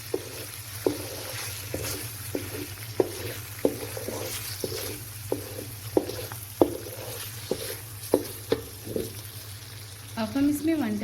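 Masala being stirred in a cooking pan, with regular spoon knocks and scrapes against the metal over a gentle simmering sizzle and a low background hum, a brief voice-like sound near the end.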